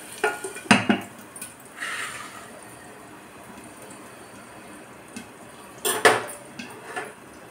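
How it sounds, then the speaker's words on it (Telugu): Metal clanks against a pot of potato curry as a lid is set on, two quick clattering knocks near the start, a soft scrape, then another pair of clinks a few seconds later in a quiet kitchen. "మూత పెట్టుకుందాం"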